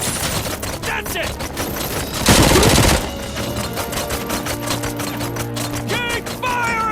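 Heavy gunfire in the RoboCop: Rogue City video game, rapid sharp shots in dense bursts with a brief louder blast in the middle, continuing steadily over a musical background.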